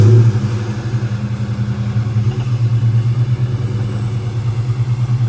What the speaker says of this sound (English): let's go ahead and see Estrella start this Cobra up